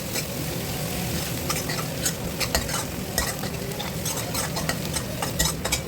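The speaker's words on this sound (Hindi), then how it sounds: "तो इसमें ये अदरक लहसुन का पेस्ट भी डाल दिया है" Onions sizzling with ginger-garlic paste in a home kitchen pan, stirred continuously with a spoon; close, steady frying hiss with rhythmic scraping and occasional clinks.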